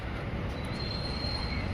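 A metro train at Old High Court metro station gives a continuous low rumble, with a faint high wheel squeal drawing out through the middle.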